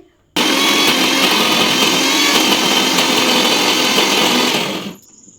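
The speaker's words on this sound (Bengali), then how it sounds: "তারপরে হচ্ছে মিক্সার গ্রাইন্ডারে দিয়েছি দিয়ে চলো এবার আমি পেস্ট করে নিচ্ছি" A mixer grinder whirs loudly and steadily, grinding soaked red lentils into a paste, running nonstop for about four and a half seconds before cutting off abruptly, with no talking.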